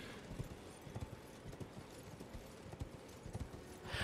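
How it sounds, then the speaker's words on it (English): A horse galloping in the video game Elden Ring, rapid rhythmic hoofbeats thudding steadily and fairly close over a low ambient game bed. "Maybe we just go full speed ahead with the horse."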